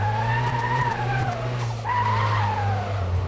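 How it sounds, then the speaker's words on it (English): A car engine in the video game Car Mechanic Simulator 2026, revved in neutral with its turbo going: a loud, steady engine drone with a whining tone that rises, sags, dips briefly and then climbs again. "You hear that turbo going, baby?"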